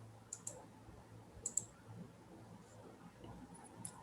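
A computer mouse clicks in a quiet room, a few faint, sharp single and double clicks spaced irregularly over a low background hum.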